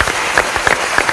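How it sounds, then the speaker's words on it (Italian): Studio audience on an Italian football talk show breaking into brief, crisp applause, close and fairly loud, with individual claps standing out over the steady patter. "Merita un applauso questo."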